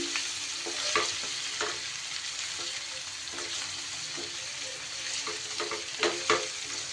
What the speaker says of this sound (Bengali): কাশ্মীরি লঙ্কার গুঁড়ো আর তারই সাথে একটু নুন দিয়ে পনিরটাকে একটু ভাজা ভাজা করে নেব।